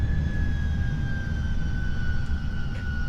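Airbus A340 jet engines in reverse thrust during landing in the X-Plane 12 flight simulator, a loud, steady roar with a high whine that slowly falls in pitch, no talking.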